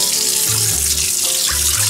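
A steady stream of tap water runs continuously from a faucet into a sink, close and fairly loud with no speech.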